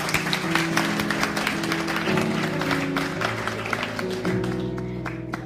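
An audience at a talk breaks into sustained applause, busy clapping running the whole stretch with a low steady tone underneath, gradually easing off.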